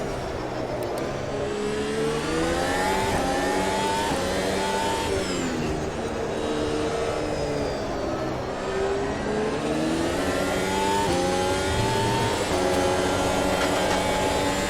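A video game F1 race car runs a demo lap on a purpose-built street circuit in Madrid, its high-pitched engine steadily droning, rising and falling through gear changes and revs for the whole stretch, with no talking.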